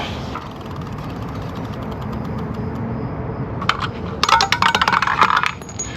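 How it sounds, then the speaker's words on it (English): Small pieces clatter and tick down a pegged Plinko board from The Price is Right, a faint steady rattle that bursts into a louder, rapid cluster of clinks near the end, with no talk. "Playing the Plinko machine on The Price is Right"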